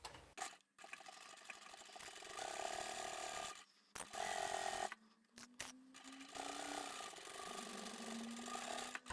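A domestic sewing machine with a size 14 needle stitches the seams of a scrap-fabric tote bag, running in steady mechanical bursts broken by short pauses, close and clear with no voices.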